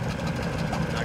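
Outboard boat motor idling shortly after a cold start, its first run since autumn without being stored for winter, on the Don river near Kalach. A steady, continuous low engine rumble fills the short stretch with no break.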